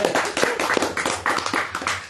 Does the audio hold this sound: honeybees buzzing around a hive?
no